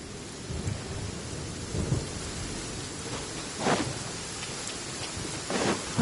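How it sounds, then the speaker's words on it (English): Steady heavy rain pours down on a beach in the video game Genshin Impact, with several deep rolls of thunder rumbling through, swelling louder a few times; no voices. "Quite a downpour. Nothing will get done until it clears."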